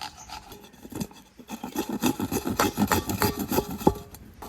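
Jackfruit seeds rubbed against a grater in a home kitchen, making a steady run of rhythmic rasping strokes, close and moderately loud, with no talking.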